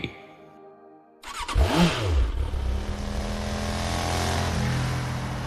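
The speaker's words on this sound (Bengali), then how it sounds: "মামা বাইকটা নিয়ে চালিয়ে ফিরছে" A motorcycle engine starts up after a brief quiet and then revs hard in a rising and falling sweep, settling into a steady, loud running drone.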